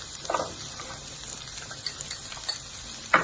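Sweet pepper dropped into hot oil while sautéing for seasoned potatoes with spinach, a low steady sizzle broken by a few spoon scrapes and a sharper burst of crackle near the end, with no voices.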